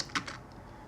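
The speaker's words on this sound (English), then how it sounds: "Let's type in this." A couple of quick keystrokes tapped on a computer keyboard, close and fairly quiet, followed by a faint room hush with no voice.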